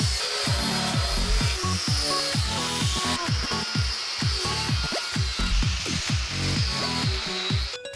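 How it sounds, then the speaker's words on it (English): Rusty rear metal floor sections of a mid-engine kit car being cut out with a power tool, giving a dense grinding rasp broken by rapid, rhythmic thuds and clanks, close and continuous. "we're also cutting out these rear sections because actually the metal in them is in really bad condition"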